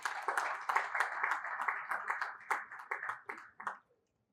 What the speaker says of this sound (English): I ask that you please give yourselves a round of applause for coming